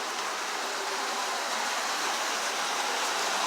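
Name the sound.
water running through underground Templar tunnel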